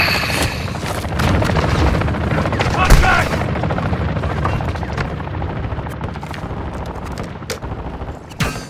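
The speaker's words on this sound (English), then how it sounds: "Be advised, the enemy attack helo is approaching your location." An enemy attack helicopter approaching in a military shooter video game, its loud rotor drone layered under bursts of gunfire and booming impacts throughout, with no pause in the din.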